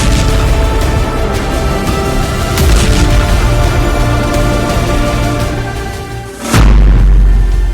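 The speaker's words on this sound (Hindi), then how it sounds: "निशाना बनाकर बमबारी की" Israeli air force bombing strikes buildings in the mountainous Almadya area of Lebanon, and a single deep, heavy boom erupts near the end over a dense, busy background.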